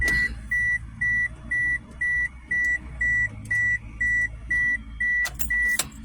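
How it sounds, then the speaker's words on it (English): A car's warning chime beeps in a steady, evenly spaced repeating pattern, about a dozen clear tones over a low engine hum inside the cabin. "Turn that beeping off so it won't run you crazy."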